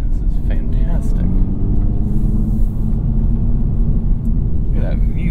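A 2024 Acura Integra Type S engine pulls steadily at low revs in a high gear, a low rumbling drone with road noise throughout, while someone talks over it.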